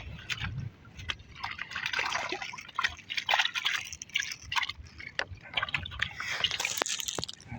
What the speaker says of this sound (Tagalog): itapon natin tubig